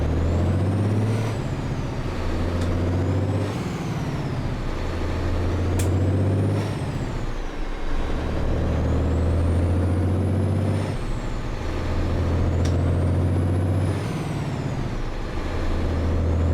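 Mack truck with an 805 engine in American Truck Simulator, a steady loud diesel drone that rises and falls through repeated gear changes, with brief sharp hisses.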